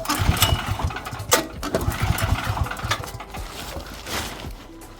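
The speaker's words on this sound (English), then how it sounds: "Outside start generator." An RV's generator outside starts and runs, giving a loud, rough, steady small-engine chug close by with a sputtering burst early on, then settling into an even running drone.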